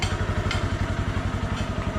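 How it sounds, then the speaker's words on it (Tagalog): Motorcycle engine idling as it warms up outdoors before yard work, a steady close, loud rhythmic putter with even pulses and light mechanical clatter throughout, no talk. "Ngayon pinainit ko na yung motor para mainit na siya."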